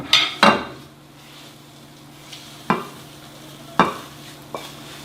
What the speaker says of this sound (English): I'm going to transfer my eggs before they're overdone to the pan here.